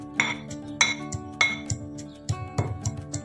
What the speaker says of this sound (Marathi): हे बघा, खलबत्त्यामध्ये कुटण्यात येत आहे बारीक लसूण